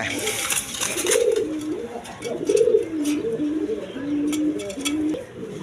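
Pigeons coo repeatedly at a bird market, with several low rolling coos rising and falling one after another, close and fairly loud over a busy background of clatter and faint voices.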